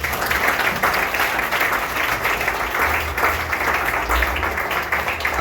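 A congregation at a Spanish-language church service applauds with dense, loud, continuous clapping that holds steady through the whole stretch, with no talking over it.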